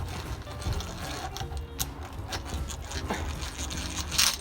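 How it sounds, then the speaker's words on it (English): An old-fashioned hand drill bores into a wood block for an insect hotel, giving a steady close-up grinding, ratcheting churn with faint gear clicks throughout. "Got one of these hand drills."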